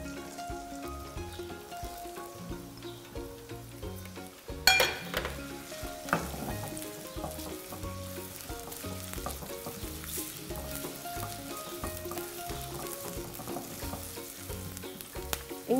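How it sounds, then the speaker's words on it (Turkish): Onions and takrak peppers fry in hot olive oil in a pan, giving a continuous crackling sizzle with a brief louder burst of spatter partway through and occasional stirring, all fairly quiet and close. "Yağım tamamen ısındıktan sonra içerisine soğanımı ve takrak biberlerimi ilave"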